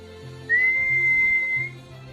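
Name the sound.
human whistling as dog training cue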